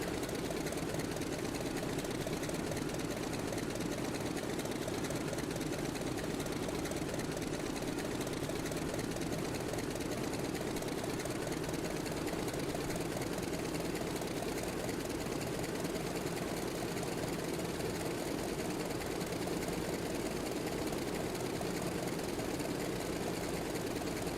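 The radial engine of a Grumman F3F biplane fighter idles steadily while taxiing, a continuous loud rumbling drone with an even chugging pulse and no voices.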